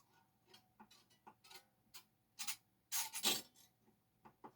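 A guitar string being wound onto the tuning peg gives faint, close ticking and clicking in an uneven rhythm, with a few louder rubbing clicks in quiet surroundings.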